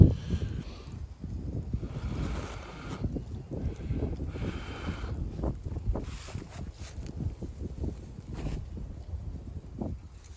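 Outdoors, wind gusts and rumbles across a microphone near a small fire lit with a tablespoon, with uneven buffeting and faint rustling and no speech.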